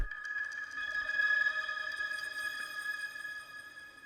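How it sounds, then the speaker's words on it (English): An ambient synth pad from the Analog Lab HZE Ghostland bank hums with steady sustained tones and shimmering overtones, soft and alone, slowly fading toward the end. "I added this really ambient sound from Analog Lab. I think it's from an HZE bank called Ghostland"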